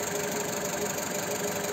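A repaired car engine idling with slight vibration, a steady, even mechanical hum and rattle held close and constant for under two seconds, no voices.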